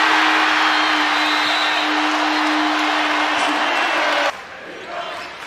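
A basketball arena crowd at a Purdue game roars and cheers in a loud, sustained wash of noise that drops off abruptly near the end.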